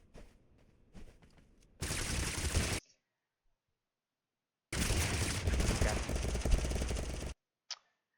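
Fully automatic fire from a DMR in a video game, a fast assault-rifle-style weapon using small ammo, comes in two loud sustained bursts separated by a pause, with faint sounds before the first burst.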